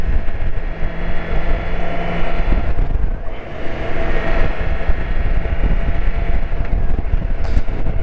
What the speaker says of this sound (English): And the wind hits me smack in the face